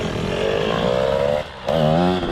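A 2007 KTM 105SX two-stroke dirt bike engine revs hard under throttle close by, a raspy rising whine that dips briefly, then surges again, with no talking over it.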